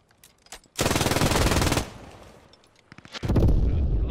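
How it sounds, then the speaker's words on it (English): A machine gun is fired from the hip in the World War II shooter Post Scriptum, first a long, loud sustained burst, then a few scattered shots and a second heavy burst at the end. "This is about as far away as you want to get when firing from the hip"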